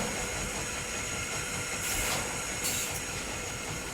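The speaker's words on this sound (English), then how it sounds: "That's an impressive old train" An old train in The Lost Crown video game rumbles and hisses steadily at close range, with a couple of brighter steam-like bursts partway through and no talking.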